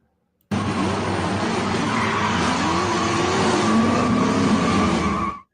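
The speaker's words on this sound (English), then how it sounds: "I wonder if she actually did that burnout." A car doing a burnout in a TV advert: a loud, continuous engine roar with squealing, skidding tyres, held steadily for about five seconds before cutting off abruptly.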